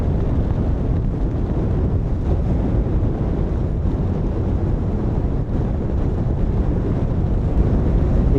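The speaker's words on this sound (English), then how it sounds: "It's a cold one. Windy as well." Strong, steady wind buffets the microphone at a freezing winter snow wild camp, a continuous loud roar with rumbling gusts and no talk.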